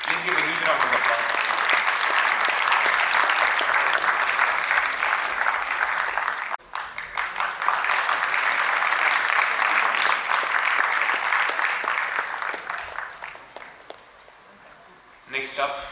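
A crowd at an inauguration and felicitation program claps for a long stretch, the applause dense and sustained, briefly cut once, then thinning out toward the end.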